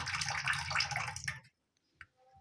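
Rinse water drains and pours off freshly washed chhena, a close, busy splashing stream that stops abruptly, followed by near silence and a single faint drip.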